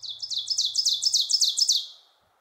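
Spring songbird singing a rapid series of about a dozen bright, repeated chirping notes, loud and close, fading out at the end with no other sounds.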